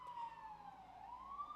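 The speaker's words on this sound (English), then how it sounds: "Sorry about the siren, guys." A police or emergency siren wails outside, its tone sliding down and back up in a steady sweep, distant and muffled as heard from indoors, with no talk.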